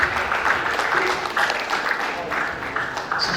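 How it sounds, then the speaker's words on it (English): A workshop audience claps after a presentation: moderate, steady applause from a room of people, with a voice talking faintly over it. "A round of applause for her, please."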